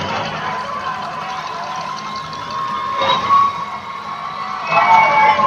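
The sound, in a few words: crowd of fans cheering loudly at a brick game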